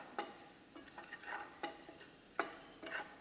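Pirandai (veldt grape) being sautéed in a pan for chutney, with soft intermittent scraping stirs every half second or so over a faint, steady background sizzle.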